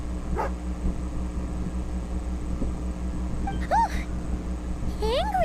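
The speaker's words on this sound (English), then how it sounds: "Angry doggy." A dog in a wintry Genshin Impact scene growls and yips amid a steady low hum of game ambience, with a couple of short rising barks toward the end.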